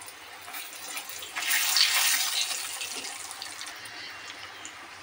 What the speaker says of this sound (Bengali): তেলটা গরম হয়ে গিয়েছে। এবার লুচিটা ওর মধ্যে দিয়ে দেব, ডালপুরিটা।